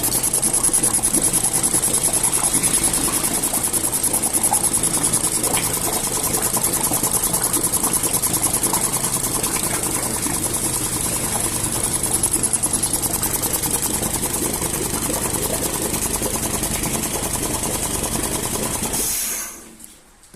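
A Mercury 40-60 EFI four-stroke, four-cylinder outboard motor, worked without its throttle handle, runs at a steady, close, continuous drone before shutting off abruptly at the very end.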